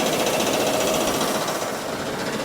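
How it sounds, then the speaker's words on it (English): A sand washing plant with screws moving sand from a wash tank up to a conveyor, making a loud, continuous mechanical churning and rattling drone that holds steady throughout with no talk. "It goes down into the tank where you can see it being washed, and then those screws will move it right on up to the conveyor belt"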